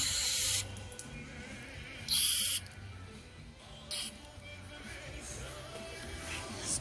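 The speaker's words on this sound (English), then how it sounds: "Spray there." Cleaner sprayed onto a lawn mower carburetor in short hissing bursts, one strong blast near the start and others more briefly, with quiet handling noises between.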